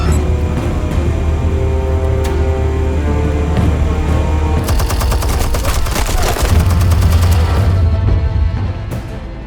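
Explosions and gunfire in the Telltale Batman video game: a sustained loud battle din with dense rapid shots and blasts, intensifying midway into heavy crackling bursts before easing slightly at the end.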